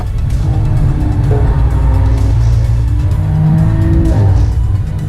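A BMW M4 slides through a fast double-apex right-hander, its engine roaring loud and steady as the tyres squeal through the corner, with no voices.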